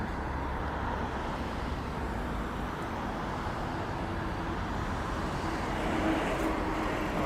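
A delivery truck passes along a Toronto street, its steady, loud engine and tire rumble blending with broad traffic noise for the whole stretch, swelling slightly near the end.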